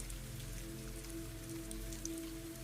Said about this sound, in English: The rain continues quietly outside.